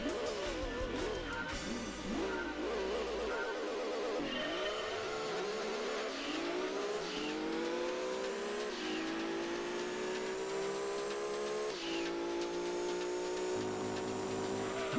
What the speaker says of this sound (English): Iconic engine sound.